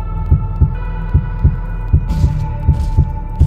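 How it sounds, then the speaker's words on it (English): Heartbeat minigame from the horror video game Doors: loud, close double-thump heartbeats pulse in a steady rhythm over a low hum, with a faint hiss entering partway through. "Q and E to line up the... heartbeat things"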